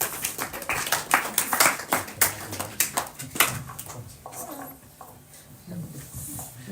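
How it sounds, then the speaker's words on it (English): Thin, scattered clapping from a small audience at an evening temple class, a short burst of uneven claps that fades out, mixed with a little background noise. "kind of was a little bit of lackluster applause"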